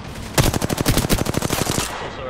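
Rapid automatic gunfire in the video game Apex Legends, a loud close burst of about two seconds with evenly spaced shots.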